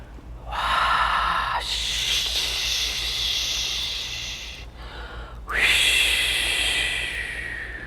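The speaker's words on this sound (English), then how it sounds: "Take some nice deep breaths." Deep breathing during a guided meditation: two long, loud, close breaths in and out, each a drawn-out airy rush, with no talking over them.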